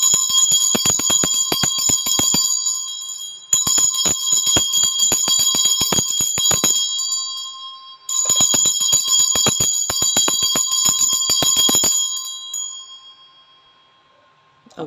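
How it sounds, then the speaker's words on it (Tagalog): A hand bell is struck over and over, rapid metallic ringing with bright sustained overtones in three long bursts separated by short gaps, loud and close with no talking. "i-ring ko lang yung bell. Paki-lower na lang yung volume kasi medyo maingay po ito."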